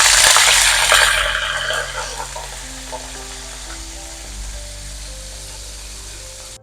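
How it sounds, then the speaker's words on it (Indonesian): Salted fish frying in hot oil, a loud sizzling crackle at first that settles into a steadier, quieter sizzle, with no talking. "Lanjut kita goreng ikan asin"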